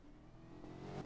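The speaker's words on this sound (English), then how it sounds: "Dude's in a car." A car engine revs in a video game, a steady mid-pitched drone that swells louder toward the end, heard alone without talk.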